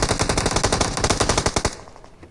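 Sustained automatic gunfire from a machine gun in the battle royale game PUBG, a rapid loud burst of evenly spaced shots that runs for about two seconds before cutting off, with no talk over it.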